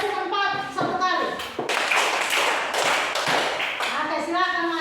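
Schoolchildren in a classroom clap in a short burst of sharp, quick hand claps, loud and close, with children's voices chanting and talking around them.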